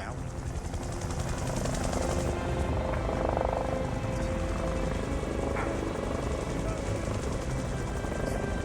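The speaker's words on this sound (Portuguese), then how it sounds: "Ouço o som dos motores do helicóptero." Continuous low, thrumming drone of a helicopter engine and rotor, steady and fairly loud throughout, with a voice faintly underneath.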